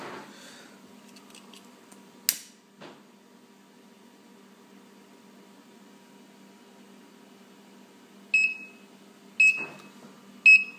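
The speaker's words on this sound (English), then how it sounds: "it starts the alarm and tells you it's too hot" Short, high-pitched electronic beeps from a prototype hot tub thermometer's over-40-degree alarm sound in a quick cluster of three near the end, after a quiet stretch with a faint hum and a couple of clicks.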